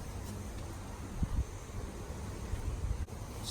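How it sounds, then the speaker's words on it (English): Wind blows outdoors, a steady broadband rushing noise with low buffeting gusts against the microphone, moderately loud throughout. "Stupid wind."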